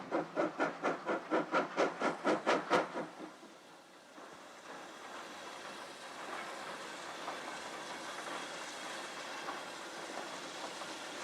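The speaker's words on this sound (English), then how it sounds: "number 5 crests the climb and coasts into the platform" A North Yorkshire Moors Railway steam locomotive in the early 1990s puffs rhythmically in rapid chuffs after cresting a climb, then falls quiet and rolls on with a steady hiss and rumble as it coasts into a station platform.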